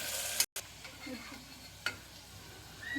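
Onions and tomatoes fry in a pan for rice upma, with a soft, steady sizzle and occasional spoon scrapes, one brief sharp clink near the middle.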